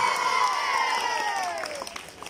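A school annual sports day crowd fills the air with steady clapping and cheering for a junior prize winner, loud and continuous before slowly tapering off.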